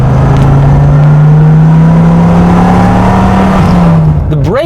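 Dodge Viper engine under way, a loud, close, sustained low growl holding a steady pitch that rises slightly and then falls as the car drives, with a brief whirring sweep at the end.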